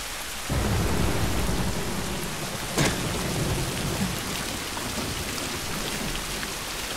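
Steady heavy rain pours on surfaces in The Last of Us on PS4, with a brief thunder crack partway through; a dense continuous wash, loud throughout, with no voices.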